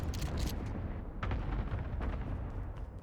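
Muffled gunfire and booming blasts fill a Call of Duty: Modern Warfare (2019) Hardpoint match at the Atlas Superstore map, dense and rumbling with several sharper reports breaking through a continuous low roar.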